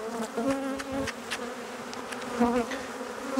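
Honey bees buzz close around a hive frame during honey collection, a dense wavering drone with individual bees swelling nearer and fading, steady throughout without speech.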